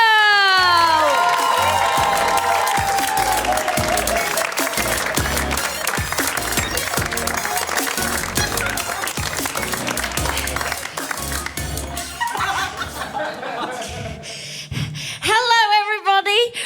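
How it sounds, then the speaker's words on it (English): Audience applause and cheering for a comedian walking onto a stand-up stage, loud and sustained clapping under bright walk-on music, with shouts and whoops rising toward the end. "Please start the applause and welcome to the stage, Slug Girl!"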